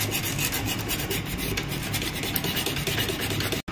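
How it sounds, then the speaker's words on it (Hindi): Sandpaper rubs steadily over the metal shuttle of a sewing machine to smooth off sharp edges, giving a close, continuous rasping scrape that runs unbroken until a sudden stop at the end. "जहाँ पे भी दिख रही हो आपको वहीं पे रेगमाल अच्छे से मार ले"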